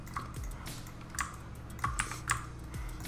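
Someone types on a computer keyboard with scattered, light, close key clicks in short irregular bursts over a quiet room background.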